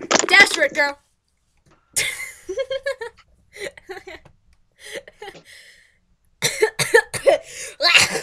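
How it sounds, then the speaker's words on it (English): A sharp cough bursts out at the start, followed by talking and a short laugh, with brief pauses between. "I'm not sure if that was a sneeze or a cough or not."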